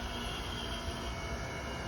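A continuous rumbling roar with steady tonal hums holds level through the short stretch, fitting a passing train heard alongside running HVAC units, with no voices.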